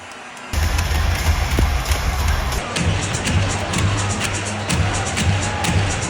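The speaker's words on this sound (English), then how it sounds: "The energy was insane with fans cheering, lights flashing, and the whole stadium buzzing with excitement." Fans cheer at a Dallas Mavericks game at American Airlines Center, a loud sustained crowd roar with whoops and shouts filling the arena from start to finish.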